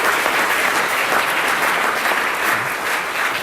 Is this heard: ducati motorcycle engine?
no